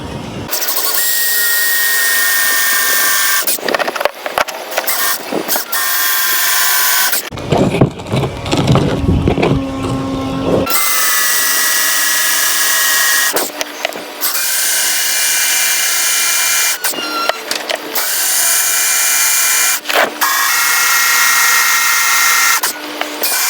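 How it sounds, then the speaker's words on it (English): A power drill whines in long, steady bursts drilling a cable hole for wind turbine wiring, stopping and restarting several times, loud and close, with brief quieter gaps between runs. "First I have to drill a hole for this, for the cable."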